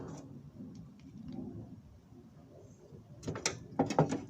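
A ratchet clicks in short bursts while two 7mm bolts are tightened back into the bottom of a push mower carburetor, close and fairly quiet, with sharper clustered clicks toward the end.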